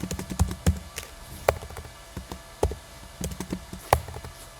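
Keys clatter on a computer keyboard in quick, uneven bursts of close tapping, with small pauses between runs and no voices.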